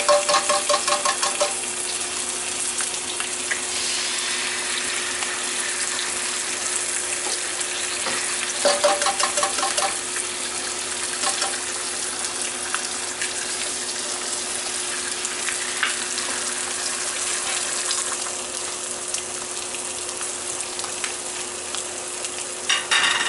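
Eggs sizzle and crackle steadily in a hot pan as they cook over easy, a continuous close frying hiss with a few brief louder spatters and no talking.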